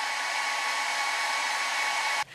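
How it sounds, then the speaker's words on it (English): A hair dryer blows steadily at a door to test a twin draft guard, a loud, constant broadband whoosh that runs unbroken for about two seconds before cutting off abruptly. "we tested the dryer up and down the door"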